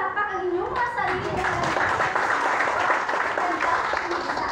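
A class of students claps for themselves in a classroom, a steady burst of applause mixed with children's voices and chatter throughout.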